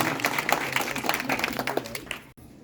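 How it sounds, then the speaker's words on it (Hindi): Crowd clapping at an outdoor street-corner political rally in a village in Sambhal district, a dense steady patter of many hands that stops abruptly near the end. "इनके लिए जोरदार ताली हो जाए नौशाद चौधरी के लिए।"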